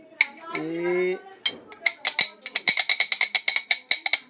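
A metal pan holding cooked eggs is tapped in a kitchen, giving a quick series of bright clinking knocks that speed up into a rapid run, after a brief voice.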